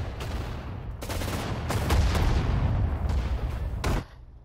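Gunfire from a World War II battle at Iwo Jima in Sudden Strike 4: dense, continuous rattling volleys with sharp bursts and deep booms, loud and close, ending abruptly with a fading tail.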